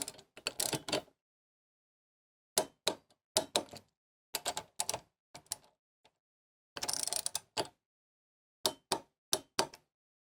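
Torque wrench tightening sportbike front axle bolts, short bursts of rapid ratcheting clicks separated by pauses, loud and close in a quiet garage.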